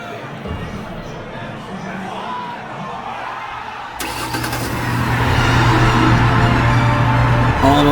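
A truck engine starts remotely and settles into a steady idle, rising from background hum to a louder, sustained rumble, heard from nearby with some room noise.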